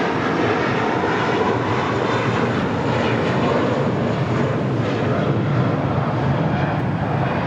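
An airliner takes off at Los Angeles International Airport with a loud, steady engine roar filling the air, constant and broadband with no voices.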